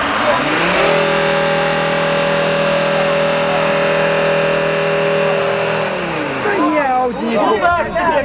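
A car engine revs in a car meet contest, holding a steady, loud sustained note for about five seconds before dropping away, followed by people talking.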